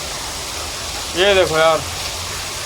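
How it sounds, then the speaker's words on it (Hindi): Steady rain pours down outdoors where a Rapido bike-taxi rider waits, a broad hiss that holds for the whole stretch while someone speaks briefly over it, close to the microphone. "ये बारिश देख रहे हो"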